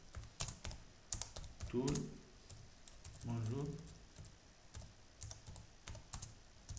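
Keys clatter in quick irregular bursts as a message is typed on a computer keyboard, close and clear, with a short stretch of speech breaking in twice between the keystrokes.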